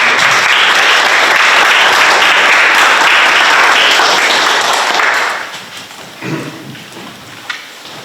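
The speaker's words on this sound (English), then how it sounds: "they're going to get a round of applause from us" Sustained round of applause from an audience at a town council meeting, loud and dense for about five seconds before tapering off into quiet room noise with a few scattered claps.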